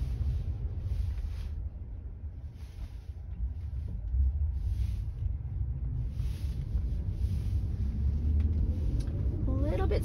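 Tesla on FSD Beta 10.4 pulling away slowly from a stop line, heard from inside as a steady low road rumble and wind noise that swell gently, with a faint rising motor whine toward the end.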